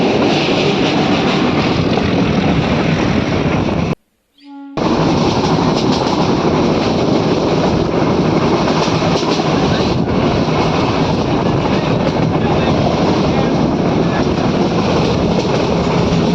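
A passenger train runs through the villages of the Gir region of Gujarat, giving a loud continuous rumble with clickety-clack of wheels and wind buffeting, briefly cut off near the start before resuming steadily.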